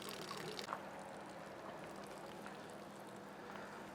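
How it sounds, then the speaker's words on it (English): Water trickles from a Truma AquaGo RV on-demand water heater after a decalcifying flush: a faint, steady, low wash of running water throughout, with no voices. "All right, our water is down to a trickle."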